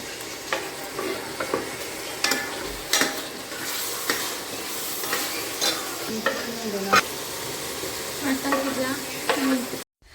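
Tempering spices sizzle steadily in a pan at close range, while a utensil stirs and scrapes against the metal in repeated strokes over the continuous frying hiss.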